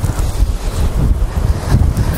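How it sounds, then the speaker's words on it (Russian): Strong wind blasts across a winter beach at Katsiveli, battering the microphone with loud, gusty low rumbling that runs continuously and drowns out everything else, with no voices. "Вот опять погода поменялась. Снова ветрюганище."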